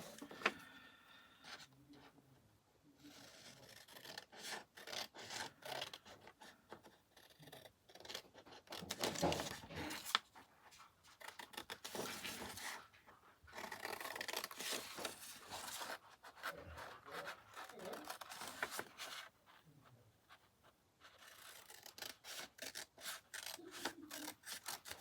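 Paper for an autumn-themed journal insert being cut out, with scissors snipping and paper rustling and rasping in irregular bursts, close and moderately quiet, with no talk.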